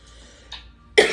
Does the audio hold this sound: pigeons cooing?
no